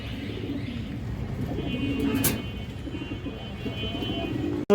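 Pigeons kept for sale, including a red pair, give soft low cooing that runs steadily under a faint hum of distant traffic, with a brief sharp noise midway.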